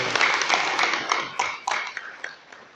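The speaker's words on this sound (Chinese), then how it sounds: "掌声欢迎。" An audience claps at a gathering of group members presenting their discussion results, giving scattered, uneven applause that thins out toward the end.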